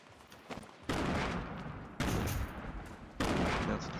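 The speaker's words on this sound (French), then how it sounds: "y'a des mecs qui essaient de nous sniper." Sniper gunfire in the Fortnite video game comes as three sharp, fairly quiet shots spaced about a second apart, each followed by a lingering tail.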